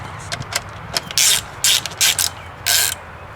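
A ratchet tightens a 10mm bolt on the battery hold-down of a 2001 Volkswagen New Beetle, giving several quick, close bursts of sharp clicking separated by short pauses.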